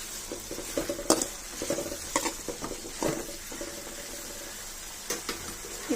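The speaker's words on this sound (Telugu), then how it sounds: "తర్వాత తరిగిన వంకాయ ముక్కలను కూడా ఇలా వేసేసుకున్నాం. బాగా ఫ్రై చేసుకోవాలి ఇప్పుడు వీటిని." Chopped eggplant pieces fry in a pan with mustard seeds and cumin, giving a low sizzle beneath repeated clinks and scrapes of a spoon stirring against the metal, close and irregular.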